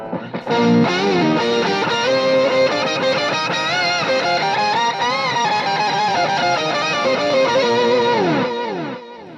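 Electric guitar lead played through a Fractal Audio VP4 with delay, distorted sustained notes and bends ringing with echoing repeats, loud and steady, fading out at the end.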